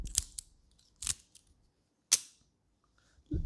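Leatherman Arc multitool handled close up, giving three sharp, crisp metallic clicks spaced about a second apart in near silence, followed by a softer thud.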